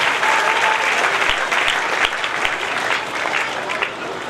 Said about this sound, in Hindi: ताली के साथ उनका सम्मान